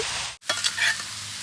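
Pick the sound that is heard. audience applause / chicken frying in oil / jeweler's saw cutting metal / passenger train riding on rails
chicken frying in oil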